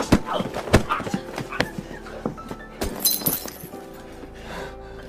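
Glass bottle smashing in a violent fight, several sharp shattering crashes and thuds in quick succession, loud and close, with brief voices mixed in.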